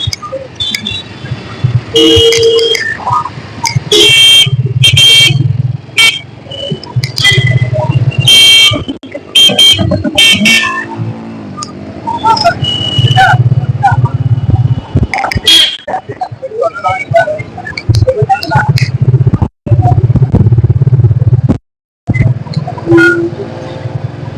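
Busy road traffic near a highway rolls past with vehicles honking, repeated short horn toots over a continuous engine drone, with people talking at times.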